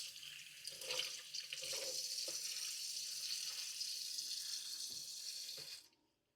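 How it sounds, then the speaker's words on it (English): Water runs from a tap into a bowl in a steady, hissing stream for about six seconds before cutting off abruptly, heard up close with no talking. "Put some water into this."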